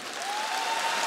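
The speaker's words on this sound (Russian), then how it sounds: "Давайте дадим этому всему имена под ваши, естественно, аплодисменты." A studio audience applauds at a televised Russian comedy league game presentation, a steady wash of clapping that holds at even strength through the whole short moment.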